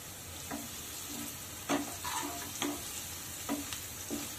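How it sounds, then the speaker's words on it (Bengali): Onions sizzle in a hot pan with a little salt while being softened for a jackfruit kofta curry, a steady close frying hiss broken by several scraping spatula stirs, with no voices. "পেঁয়াজটা একটু নরম হওয়া অবধি আমাদের ফ্রাই করে নিতে হবে।"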